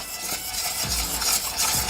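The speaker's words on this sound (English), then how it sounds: "Give it a stir. How rich and creamy this is getting." A spoon stirs a thick, creamy sweet corn ragout in a pan, giving close, continuous wet scraping and squelching with a light sizzle underneath.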